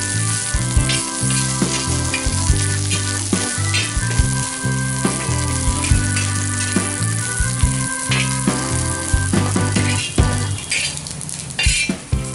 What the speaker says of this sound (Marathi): त्यावर तव्यावर थोडं तेल घालून ओलं नारळ पण भाजून घेऊया।